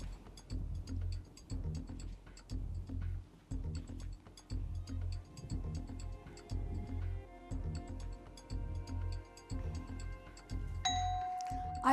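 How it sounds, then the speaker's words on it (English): A bell starting an answer timer at the National Geographic Bee final competition: a bright ringing tone arrives near the end, after a steady rhythmic pulsing pattern that repeats throughout. "When the bell rings, please begin."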